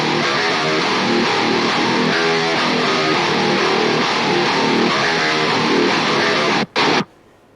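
Heavily distorted doom guitar from the Odin guitar plugin by Solemn Tones plays thick, fuzzy chugging riffs at a loud, steady level, cutting out briefly near the end before a final burst.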